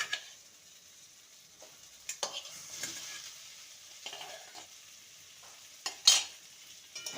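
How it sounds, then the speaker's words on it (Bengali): Potatoes and pointed gourd being sautéed with spices in a pan, a quiet sizzle under intermittent scraping strokes of a spatula, a few louder clacks standing out, close by with no speech. "মশলার সাথে আলু আর পটলকে ভালো মতন কষিয়ে নেব"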